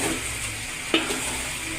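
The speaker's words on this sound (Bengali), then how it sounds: "একটু ভাজা ভাজা করব চালগুলো" Rice mixed with meat frying and being stirred in a pot for biryani, a steady close sizzle with a single sharp scrape of the spoon midway.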